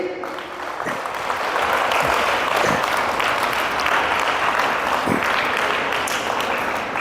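Steady, loud audience applause fills a college hall during a motivational session at Mercy College, Palakkad, sustained clapping from many hands throughout, with a few sharper claps rising above the crowd.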